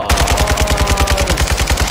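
Rapid, evenly spaced bursts of automatic fire from an RPK light machine gun in the Modern Warfare 2 campaign, loud and close, running steadily throughout with no pauses.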